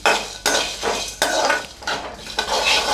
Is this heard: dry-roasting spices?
yes